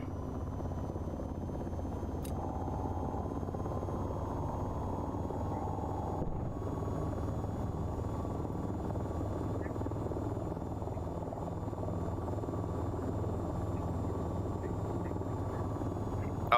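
A helicopter flies in a video game, its rotor drone steady and continuous throughout, with faint talk and game sounds beneath.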